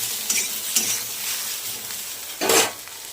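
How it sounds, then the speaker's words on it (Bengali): Okra being stirred in a pan with salt, a spatula scraping in a few short, soft strokes over a faint steady sizzle, with one louder scrape near the end. "পরিমাণ মতো নুন দিয়ে দিলাম অল্প, দিয়ে নাড়িয়ে চাড়িয়ে নিচ্ছি।"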